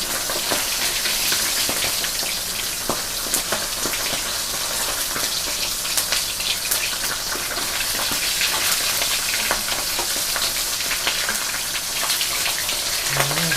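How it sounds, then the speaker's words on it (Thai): Mackerel fries in a pan of hot oil, a dense, continuous crackling sizzle with scattered sharper pops, steady and close throughout, with no voices. "การทอดปลาทูนะไฟแรงก่อนแล้วมาขวอนเป็นปานกลางนะคะ"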